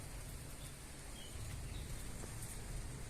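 Heavy rain falls on a rooftop garden as a steady, dense hiss of drops, faint and continuous, with no voices.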